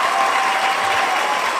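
Steady applause greets the winner of a live Family Feud-style game show, dense clapping holding at an even level throughout with no talk over it.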